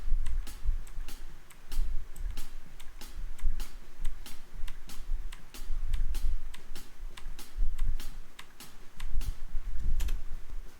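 Computer keyboard keys tapped in a steady rhythm to trigger MIDI drum hits, a stream of close, crisp clicks with occasional heavier presses, no voices.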